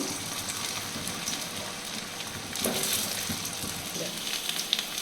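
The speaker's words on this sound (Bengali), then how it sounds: "এবার আলু ছেড়ে দিচ্ছি" Potatoes dropped into hot oil with whole spices in a wok, a soft continuous sizzle with a brief swell partway through and a few light clinks, fairly faint throughout.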